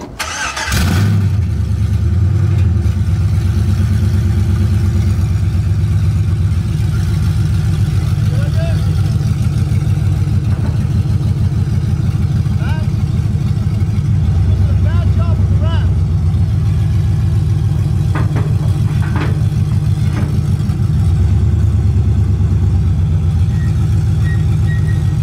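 A pickup truck engine runs steadily with a deep low rumble as the truck drives up onto a trailer, holding a fairly constant drone with slight rises in revs, close and loud throughout.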